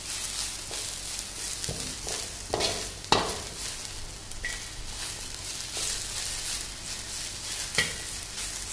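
Cabbage, carrot, onion and capsicum stir-fried for noodles in a pan, giving a steady close sizzle broken by repeated scraping stirs and light clatter throughout, with no voices.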